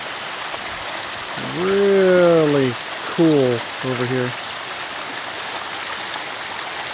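Steady broadband rush of a creek flowing beside a roadside camping spot, continuous and close throughout, with a voice speaking briefly over the water.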